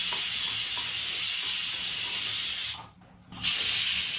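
Coconut, dried red chillies and urad dal frying in a pan give a steady, loud sizzle that drops out briefly near the end and then returns.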